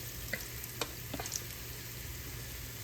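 Cornbread batter spooned a few at a time into hot oil for old-school fried cornbread, giving a steady, soft sizzle with a low hum underneath and a few faint spoon clicks.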